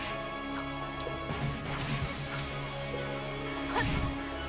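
A sharp metallic ting rings out as a sword attack is blocked in Koumajou Densetsu II, over a dense bed of game music and sound effects.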